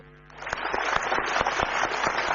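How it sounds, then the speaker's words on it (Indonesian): Audience applause in a TV talk-show studio, rising quickly from near silence into a sustained, dense clatter of many hands clapping, with a few louder individual claps standing out. "kita berikan aplaus"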